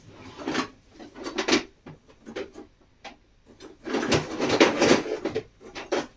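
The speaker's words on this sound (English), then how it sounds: "Put it back in the drawer." Kitchen drawer opened and closed during batch cooking of cottage pie, a series of close wooden knocks, rattles and sliding clatters in bursts, with brief rustling handling noises between them and no talking.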